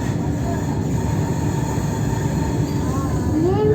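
A Vande Bharat train rolls into Varanasi Junction with a loud continuous rumble and rail hum, rising into faint wheel squeals toward the end as it slows.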